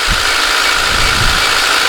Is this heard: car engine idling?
yes